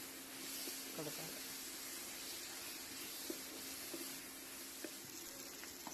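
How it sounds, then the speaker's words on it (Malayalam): Sautéed onions and tomatoes sizzle quietly in a pan while being stirred for chicken curry, a faint steady hiss broken by a few soft scrapes and clinks. "അപ്പം നമുക്കത് നല്ലപോലെ ഇളക്കി കൊടുക്കാം."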